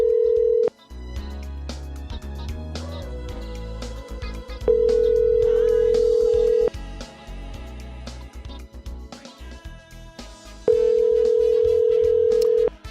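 Telephone line tones while a radio host dials a caller: a steady tone sounds in long stretches, broken by gaps of quieter line noise and clicks, with no one talking.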